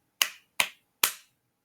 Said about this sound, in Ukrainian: тому ми плескаємо з вами багато разів